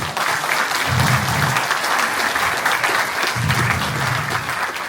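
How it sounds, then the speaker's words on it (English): Audience in Paris applauds at a public show, steady dense clapping throughout with some low murmuring beneath, fairly close and even in loudness. "So please give them a big round of applause."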